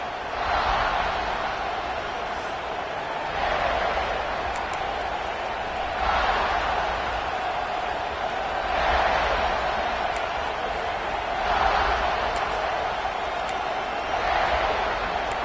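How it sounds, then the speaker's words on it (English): Stadium crowd noise from the College Football 26 video game during South Carolina vs Ole Miss, a steady broad roar that swells in repeated waves every few seconds and never drops away. "This crowd ready to make its presence known"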